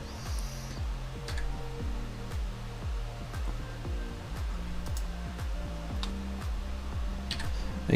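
Fabric for a top hat feeds through a sewing machine as rapid rhythmic needle ticks in short repeated bursts, near and moderately quiet, with no one talking.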